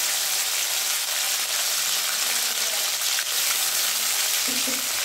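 Washed moong dal hits a hot tempering of cumin and green chillies, giving a loud, continuous close-up frying sizzle with a bright, crackling hiss that stays steady from start to finish.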